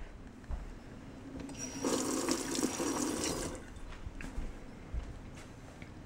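Water from a tap runs steadily for about two seconds to wet an Aeropress plunger, close and fairly loud, with quieter handling clatter before and after.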